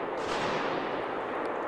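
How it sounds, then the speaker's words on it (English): Dense, sustained crackling bursts of gunfire with heavy echo, reverberating through a large building's foyer during an attack in Moscow; continuous and loud with no speech. "Gunfire could also be heard here in the building's foyer."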